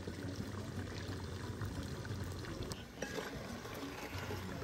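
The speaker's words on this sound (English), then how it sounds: "You add salt and water and pour it in it." Water poured into a cooking pot in an outdoor African village kitchen while gizzard sauce with fried yam is prepared, a steady, faint splashing stream that runs without a break.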